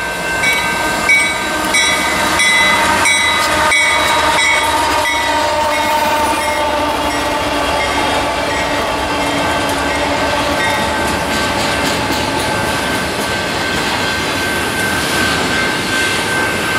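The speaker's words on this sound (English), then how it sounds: "Next train approaching the diamonds is at eastbound BNSF Intermodal with BNSF" An eastbound BNSF intermodal freight train crosses a rail diamond at Rochelle, passing loud and near with steady rolling wheel and car rumble. A sustained horn tone rings over it.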